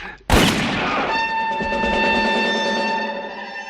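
A gunshot from a western film scene cracks out loudly at once and rings into a long sustained tonal echo that slowly fades.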